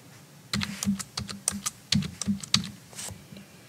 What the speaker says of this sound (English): and just type out what you want.